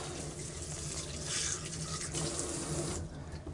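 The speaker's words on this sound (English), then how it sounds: "Get it nice and soapy. And then rinse them off." A kitchen tap runs steadily into a sink as hands lathered with dish soap are rinsed under it, with a continuous splashing hiss that swells briefly in the middle, fairly quiet and with no voices.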